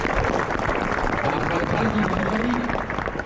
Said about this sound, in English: One last round of applause for all the volunteers today.